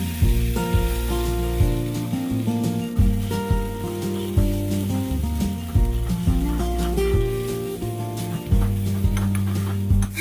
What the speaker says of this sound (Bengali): সমানে এটাকে কিন্তু খুব ভালো করে নেড়ে নেড়ে ভাজতে হবে।